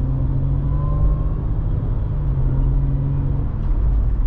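A supercharged Jaguar or Range Rover 3.0 or 5.0 engine fitted with a new crank pulley pulls under light acceleration, giving a steady, close, deep rumble with a slight rise, and no talking over it.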